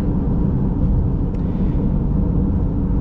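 A 2017 Subaru Outback with a CVT driving along, its engine producing a steady low rumble with continuous road noise and no talking.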